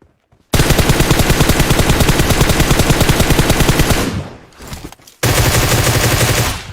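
Rapid automatic gunfire from PUBG Mobile, loud and close, bursts continuously for several seconds, drops briefly, then resumes at full intensity.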